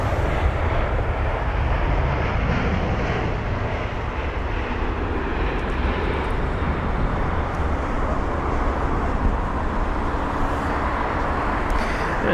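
An Airbus A320-200 airliner is arriving at London Heathrow. Its jet engines give a steady, loud broadband roar that holds for the whole stretch, with no talk over it.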